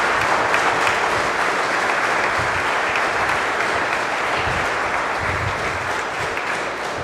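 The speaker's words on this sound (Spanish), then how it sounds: "vamos a darle otro fuerte aplauso a Fabiola" A church congregation at a Saturday evening Mass gives a strong, sustained round of applause for a girl celebrating her fifteenth birthday, with many hands clapping steadily and echoing in the hall before it eases slightly at the end.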